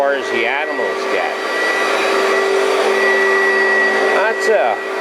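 A vacuum cleaner runs loudly and steadily indoors in an unfamiliar house during a rescue dog's evaluation, while voices or vocal sounds rise and fall over the constant motor drone.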